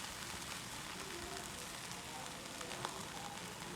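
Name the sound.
eggs frying as omelette in pan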